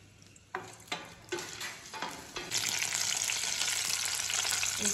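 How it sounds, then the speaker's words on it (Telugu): Green chillies fry in a hot pan with a bright, steady sizzle that builds after a few stirring clatters, growing louder and continuous. "ఫస్ట్ అయితే కొంచెం పచ్చిమిర్చి ఫ్రై అవనిద్దాం."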